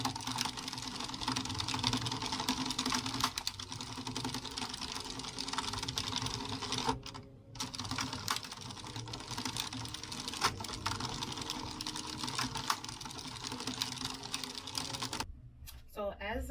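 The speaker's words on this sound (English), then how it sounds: "So that clicking sound, that is each time you get back to the beginning." An Addi King Express knitting machine rattles and clicks continuously as its crank turns while a beanie hat is knit from yarn, with short pauses and a voice speaking over it.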